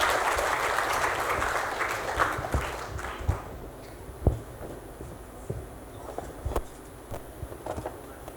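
An audience in a university hall claps, starting as full, dense applause and then thinning out to scattered claps before fading.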